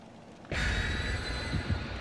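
Heavy rain starts abruptly after a quiet moment and becomes a loud, dense, steady hiss and patter that continues to the end.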